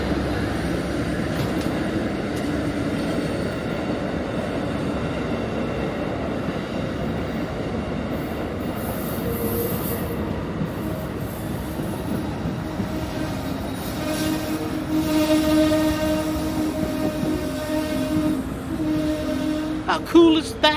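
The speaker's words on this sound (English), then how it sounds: "There goes the train!" A train rumbles steadily past nearby, wheels grinding and faintly squealing, with a tonal horn-like blare rising toward the end.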